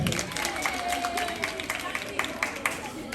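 Students' presentation at a school in Sangoyah draws applause from the audience, a steady patter of many hands clapping with faint crowd chatter underneath, moderately close.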